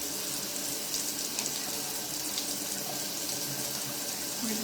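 A bathroom tap runs steadily to wet a skincare cloth before face washing, making a continuous, even rush of water that stays close and constant throughout with no talking.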